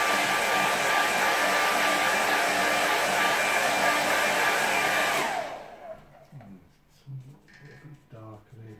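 A hair dryer blowing on a watercolour painting, a loud steady close whoosh that cuts off abruptly partway through, leaving quiet room sound and faint movement afterward.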